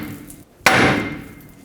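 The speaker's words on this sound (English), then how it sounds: "Grab a hammer, hit the knuckle right here." A single sharp metallic hammer strike on the steering knuckle of a 2008-2010 Ford F-250 to free the tie rod, close and loud with a ringing decay, after a brief quiet moment.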